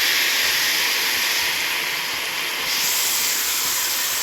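Chopped ginger and garlic sizzling in a hot pan, a steady broad hiss running unbroken throughout, close and fairly loud with no talking.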